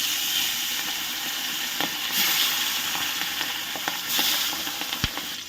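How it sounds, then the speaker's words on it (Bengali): Pabda fish fry in hot oil in a pan with a continuous close sizzle and hiss, broken by scattered pops and spatters and one sharp crackle near the end. "আবার আমি মাছগুলোকেও ভেজে নেব।"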